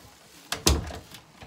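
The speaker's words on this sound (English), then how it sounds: "Right, this door has to be shut." A house door being shut, a light click followed by one solid thud at close range, then quiet room tone.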